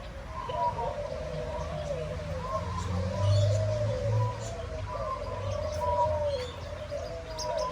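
Small birds in an Australian bird park, with soft pigeon-like cooing and scattered chirps and tweets repeating close by over several seconds, no voices over them.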